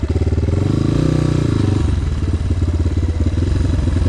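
An enduro motorcycle ridden through a forest, its engine chugging steadily and loud at close range, with a rhythmic, slightly uneven beat as the throttle shifts partway through.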